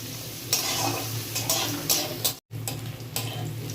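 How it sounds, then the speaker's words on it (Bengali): Chopped onions frying toward golden in a pan for a jackfruit and prawn curry, a continuous close sizzle punctuated by several scraping stirs of a spatula, with a brief gap midway. "এবার পেঁয়াজগুলোকে একটু গোল্ডেন ফ্রাই করে নেব"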